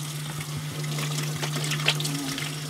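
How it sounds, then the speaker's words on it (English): Tap water runs steadily from a faucet for hand washing, a continuous close trickle and splash with a low hum underneath, no talking. "Turn the water on"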